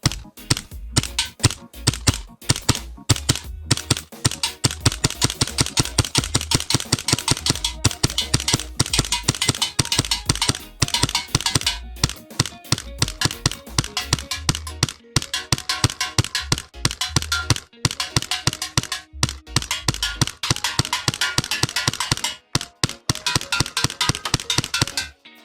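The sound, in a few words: Hi Capa airsoft pistol firing at targets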